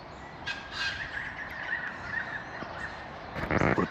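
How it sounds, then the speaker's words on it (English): A currawong calls outdoors at sunset near Winchelsea, Victoria, Australia, giving a few moderately loud, somewhat distant calls over steady open-air background noise, with no talking. "Can you hear that bird up there? Oh, now it won't go. That's a currawong."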